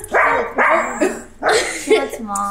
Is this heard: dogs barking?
yes